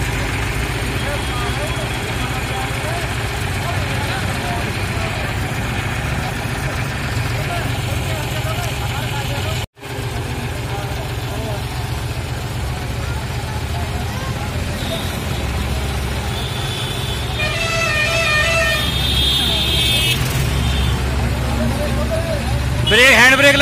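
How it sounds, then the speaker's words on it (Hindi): A John Deere 5105 40 HP tractor's diesel engine chugs steadily nearby and grows slightly louder toward the end as the tractor pulls away, with people talking over the engine noise. "अब ट्रैक्टर जा रहा है,"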